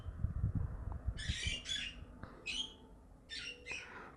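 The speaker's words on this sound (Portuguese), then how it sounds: "Desculpa pelo barulho do passarinho, né, mano? Porque tem passarinho aqui." A small bird lets out several harsh, raspy chirps in short bursts, fairly close, over faint low rumbling and clicks from Free Fire gameplay.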